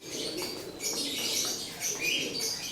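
Pigeons in a loft kept as breeding stock, calling and fluttering close by in a steady, busy chorus with soft coos and wing flaps and no talking.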